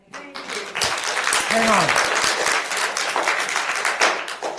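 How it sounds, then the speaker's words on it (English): Audience at a county board of supervisors meeting bursting into sustained applause, dense clapping swelling quickly and holding for several seconds after a short spoken interjection at the start. "I will ask the audience not to do the applause thing"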